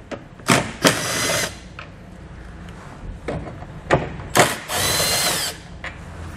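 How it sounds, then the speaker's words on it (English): A power tool fitted with a 10 mm socket removes bolts on a 2015 Subaru Outback wagon, whirring in several short bursts with ratcheting clicks, close up and loud, ending in a longer steady run. "Behind that, you'll find two bolts that we're going to take out using a 10 millimeter socket."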